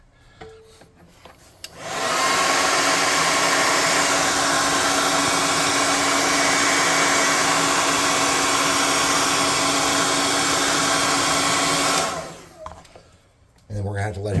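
A hair dryer blowing on a painted miniature figure, switching on with a loud steady whoosh that holds for about ten seconds and then cuts off, with brief handling noise before and after.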